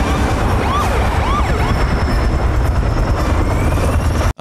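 A helicopter roars loudly and continuously at close range, with its rotor and engine noise filling the whole stretch alongside rising and falling siren-like wails.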